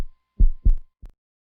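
Three deep, soft heartbeat thumps, a close pair followed by a lighter single beat, loud and alone against silence.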